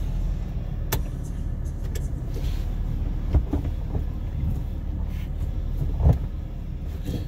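A vehicle engaged in four-wheel drive rumbles with a steady low engine drone from inside the cabin, with a few faint knocks and clunks along the way.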